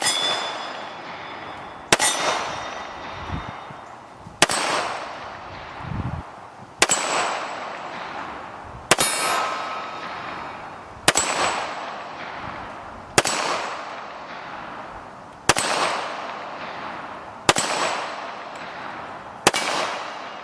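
Colt Gold Cup National Match pistol fired at steel targets: ten sharp, loud shots with metallic ringing, spaced roughly two seconds apart, each decaying briefly before the next, with no talk.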